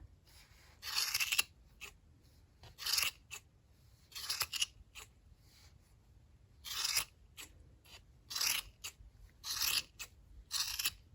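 Scissors snip through strands of yarn on a crochet turkey hat, about nine short crisp cuts arriving in irregular clusters, close and fairly quiet with pauses between.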